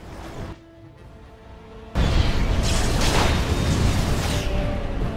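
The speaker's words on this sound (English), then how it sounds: "Paralysis explosion?" A paralysis explosion spell goes off in the video game Dragon Age: Origins, a sudden loud blast that breaks in after a quieter stretch and then rumbles on as a dense, roaring burst to the end.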